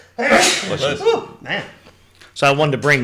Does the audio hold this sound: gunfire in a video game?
no